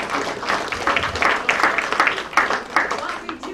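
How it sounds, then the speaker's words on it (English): An audience at a senior center's 50th anniversary applauds for the meal program organizer, a steady wash of clapping from a crowd indoors that runs under a voice speaking. "so you can clap for Michelle Saucier."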